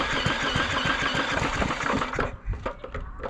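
A small engine cranks repeatedly with a rapid chugging rhythm while someone works the throttle, then the cranking cuts off and it falls quiet.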